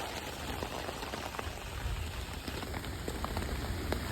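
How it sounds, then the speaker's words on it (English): Steady rain drums on a backpacking tent during a storm under a flash flood warning, a dense patter of drops with scattered sharper taps, soft and even throughout, no voices. "Hopefully your tent's surviving the rain."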